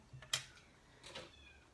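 A kitten a few months old meows indoors, one faint, short cry after a brief tick or click, heard alone in a quiet room.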